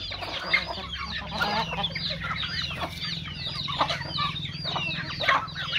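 Village chickens clucking and squawking continuously nearby, with several birds overlapping in busy, irregular calls over steady outdoor background noise.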